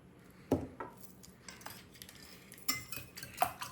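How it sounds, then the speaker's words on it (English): Food is stirred in a pot after a splash of Valentina hot sauce goes in, heard as faint, sparse clinks and scrapes of a spoon against the pot, quiet and close, with no talking. "and stir it up"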